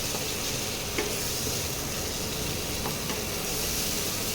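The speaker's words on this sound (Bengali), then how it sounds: "এবারে মশলাটাকে ভালো করে কষাতে হবে" Spices stir-fry in a pan for a spinach curry with lentil dumplings, giving a continuous close sizzle with a few faint scrapes of a spoon, and no one speaking.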